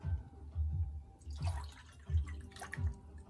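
Water is poured into a pot of sugar to start a syrup, giving a close run of dripping, splashing liquid with a low, uneven gurgle, alone with no talking.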